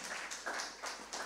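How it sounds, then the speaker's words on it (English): Applause from an audience at a civil society organizations forum of the African Development Bank: a fairly faint, steady wash of many hands clapping with gently swelling bursts, no voices. "let's give him a round of applause"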